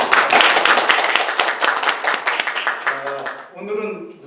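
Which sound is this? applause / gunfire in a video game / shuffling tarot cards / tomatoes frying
applause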